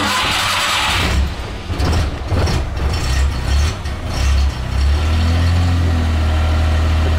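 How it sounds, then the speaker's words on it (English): A car engine cranks and catches, then settles into a steady, loud idle with a low, even hum, heard close up with no voices. "The car is now started and running"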